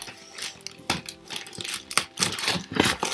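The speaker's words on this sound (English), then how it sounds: "I'm using scissors" Scissors cutting open a parcel of journal supplies, irregular crisp snips and crinkling packaging rustle at close range, with no talking.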